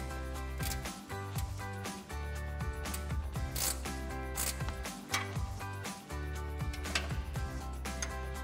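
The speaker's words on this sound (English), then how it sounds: "a ratcheting 10 millimeter wrench for our outer bolts" A ratcheting 10 mm wrench tightens the outer bolts of a Barricade HD stubby front bumper on a 2019-2021 Silverado 1500, giving steady, close metallic clicking that runs without pause.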